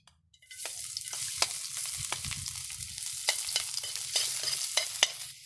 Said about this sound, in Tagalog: Meron na po tayong mantika. Pinainit po natin. Unahin po natin yung bawang.